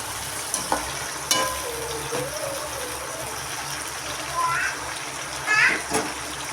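Okra sautéing in plenty of oil in a pan gives a steady, close frying sizzle with occasional clatter, while a person talks over it.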